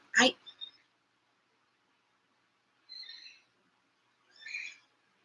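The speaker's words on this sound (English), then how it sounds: "That's a bird." A bird calls in short, separated bursts: a sharp clipped note, then two brief raspy calls spaced a few seconds apart, moderately near against quiet.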